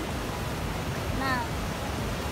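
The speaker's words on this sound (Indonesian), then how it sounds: "sekedar duduk dan menikmati suara ombak" Ocean surf rolls onto a beach as a steady, loud wash of broadband noise, with a brief voice-like tone near the middle.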